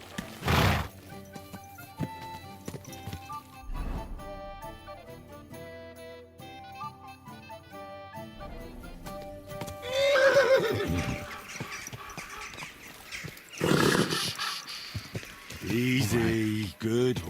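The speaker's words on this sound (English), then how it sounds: "Easy, good horse." A horse in the video game Kingdom Come Deliverance II gives a loud whinny at the start and again mid-clip, with soft hoofbeats and background game music between the calls.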